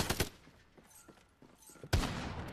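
Video game gunfire heard during a charity gaming marathon: a sharp burst of shots near the start, scattered faint clicks and thuds, then a loud blast near the end, close and fairly harsh.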